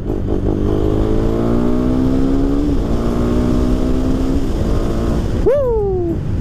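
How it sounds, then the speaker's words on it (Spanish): Motorcycle engine fitted with a new aftermarket exhaust, revving in long rising and falling sweeps and then one sharp blip near the end, loud and close with no talk. "Me encanta cómo suena el nuevo escape."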